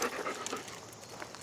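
A small dog pants close by in quick, breathy rhythmic huffs, with no voices over it.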